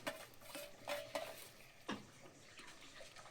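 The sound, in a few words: stirring curry with drumstick leaves in a pot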